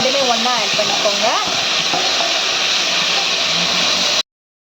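Onions and tomatoes hit hot oil in a frying pan for chicken kulambu, giving a steady, loud sizzle and hiss while someone speaks over it.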